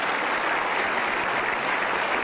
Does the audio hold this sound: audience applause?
yes